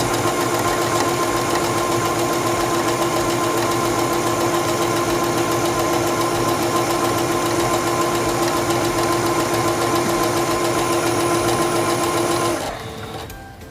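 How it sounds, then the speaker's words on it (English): A sewing machine stitches fabric in a fast, even whir with a fine mechanical patter, running steadily and close by for about twelve seconds before it abruptly stops. "Put your fabric underneath the presser foot, lower the presser foot, and begin sewing."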